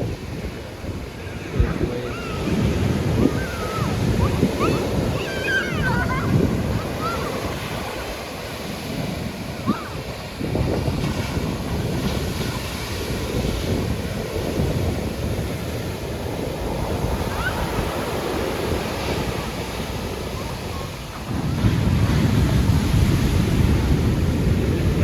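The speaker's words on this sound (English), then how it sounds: "Now we're at the ocean," Pacific Ocean surf at Big Sur, a steady broadband wash of breaking waves with wind rumble on the microphone, swelling louder near the end; faint voices occasionally in the background.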